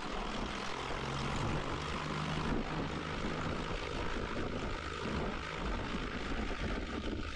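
A Cessna Skyhawk taking off from the runway, with a loud, steady propeller engine drone at full power filling the whole stretch, heard from close inside the cabin.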